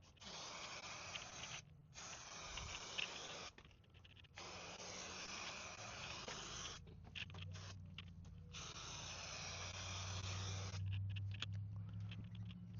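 Raptor bed liner paint sprays from an aerosol can onto a chipped Jeep TJ bumper in a steady, faint hissing stream, broken by several short pauses, with a low hum building underneath later.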